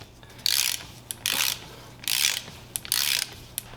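A breaker bar ratcheting on the flywheel nut of a Seadoo 951 engine during disassembly, with four close, loud bursts of clicking ratchet teeth separated by short pauses.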